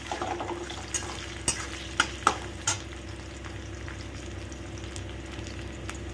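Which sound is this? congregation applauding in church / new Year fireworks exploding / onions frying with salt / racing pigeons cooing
onions frying with salt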